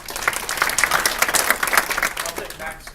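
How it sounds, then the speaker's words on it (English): A general-session audience of realtors at a state capitol gives steady applause for a legislator, with dense clapping sustained throughout at a fairly close, even level. "I'll take Matt's applause just because I might not get one."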